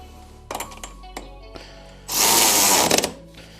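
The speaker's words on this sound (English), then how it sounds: "The nice thing about this ratchet is once you get it snug, you can just use it to kind of torque it down to final spec" A ratchet tightens a bolt on snowmobile suspension during a Fox QS3 coilover install on a Ski-Doo: a few close clicks and metallic knocks, then a brief dense burst of rapid ratcheting.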